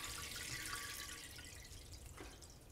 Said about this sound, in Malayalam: കുഴഞ്ഞു പോകാതിരിക്കാൻ വേണ്ടി കുറച്ച് നല്ല തണുത്ത വെള്ളം ഒഴിച്ചു കൊടുക്കുകയാണ്